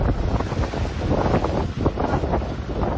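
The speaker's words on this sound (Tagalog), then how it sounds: "Malakas na hangin at hampas ng alon din ang sumalubong sa mga residente ng Dimasalang." Strong wind roars against the microphone while waves pound the shore at Dimasalang, a loud, continuous, churning rush with no voices.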